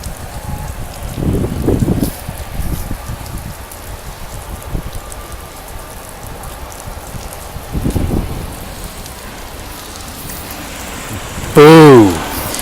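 Heavy rain falls steadily on a trail in a continuous hiss with louder gusty surges, and a voice talks briefly near the end.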